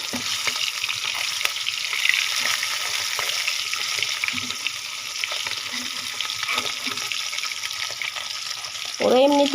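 Steady crackling sizzle of fish frying in a pan fills the clip, with occasional stirring clatter and a brief louder burst near the end.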